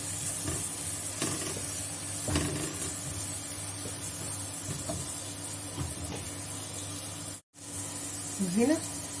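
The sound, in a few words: minced onion frying in oil for pizza sauce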